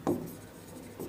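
A pen writes out a maths solution, giving a brief, soft scratch at the start and another faint stroke near the end, close and quiet.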